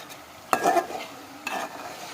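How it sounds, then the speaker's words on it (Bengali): Onions are stirred and sautéed in a pan on a gas stove, heard as two short bursts of spatula scraping and sizzling about a second apart over a quiet kitchen background, close by with no speech. "তো এভাবে পেঁয়াজটা আমি ভালো করে কষিয়ে নিচ্ছি"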